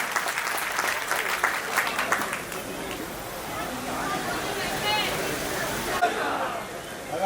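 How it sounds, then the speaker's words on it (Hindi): Loud, sustained applause from a crowd at a Kshatriya community pride conference in Kanpur, with steady clapping and crowd murmur underneath throughout. "जोरदार तालियों से"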